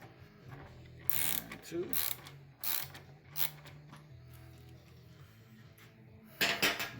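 A ratchet socket wrench clicks in short bursts while loosening bolts on an old pressure washer, the ratcheting close and moderately loud, repeating several times with quiet gaps between.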